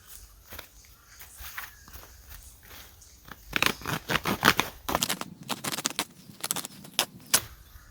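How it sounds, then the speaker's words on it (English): Outdoors in the bush, a shovel blade chops into material with a rapid series of crisp scraping and crunching strikes that grow louder and denser partway through. "See if I can try use the blades on the end of the shovel here to try cut this."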